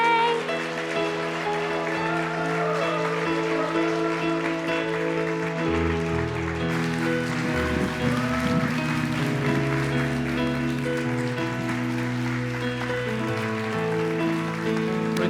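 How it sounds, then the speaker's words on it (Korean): A church congregation at a Sunday worship service claps together in sustained applause, the clapping running steadily beneath held musical tones for the whole stretch. "다시 한번 큰 박수 함께 할까요?"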